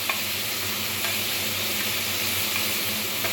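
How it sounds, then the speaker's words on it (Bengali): Shrimp dusted with turmeric frying in hot oil, a loud, continuous broadband sizzle close up with faint stirring clicks and no talking. "খুব ভালোভাবে চিংড়ি মাছটাকে ভেজে নেব"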